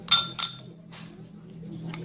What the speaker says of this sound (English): And you also add 2 ice cubes.